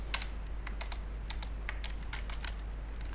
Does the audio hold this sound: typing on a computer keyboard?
yes